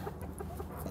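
Chickens in a chicken pen give soft clucks, a few short notes scattered over a dense, steady background rumble with no voices.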